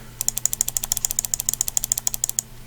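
Rapid series of sharp, light clicks from a budget Razer computer mouse, about twenty crisp taps in quick, slightly uneven rhythm, close and clear with no talking.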